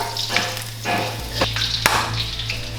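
Garlic sizzling and crackling in hot oil, a steady loud fry with occasional scraping and tapping of a utensil in the pan.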